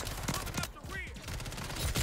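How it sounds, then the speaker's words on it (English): Bursts of FJX Horus SMG fire in the Modern Warfare 3 multiplayer video game, rapid crackling shots that come in quick clusters, fairly loud, with some game noise mixed in. "We're using the brand new SMG, the FJX Horus"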